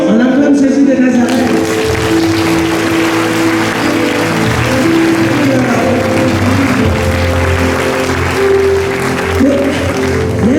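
A conference audience at a Holy Spirit gathering applauds steadily and loudly throughout, a dense wash of clapping with a sustained musical tone and crowd voices underneath.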